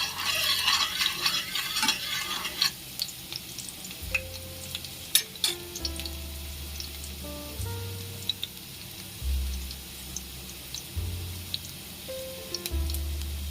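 Momo filling with chopped garlic fries in a pan, giving a soft sizzle at first and then scattered spatula taps and scrapes, with low rumbling bursts underneath, close and fairly quiet.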